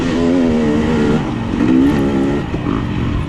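A 2022 KTM 300 XC-W two-stroke dirt bike races in a hare scramble, its engine revving and wailing up and down close by, loud and continuous with rising pitch surges.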